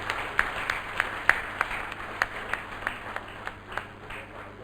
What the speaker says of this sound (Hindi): तालियों की गड़गड़ाहट से पता चलना चाहिए अभी दीप पर प्रज्वलित हो रही है